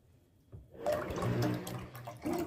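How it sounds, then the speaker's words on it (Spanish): Milk pours steadily into a pot while making Salvadoran sweet corn atol, a continuous liquid splashing rush that starts after a brief quiet moment and runs close and moderately loud to the end. "le vamos a estar agregando más leche aproximadamente es un litro casi de leche"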